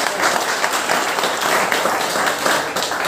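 A crowd at a speech event gives dense, continuous applause, many hands clapping loudly and close for about three seconds, with no voice over it.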